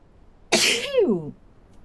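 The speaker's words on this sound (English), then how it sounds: "It's a good sneeze." A single sneeze, close and loud: a sharp breathy burst that trails into a short voiced tail, heard during play of the game Conan Exiles.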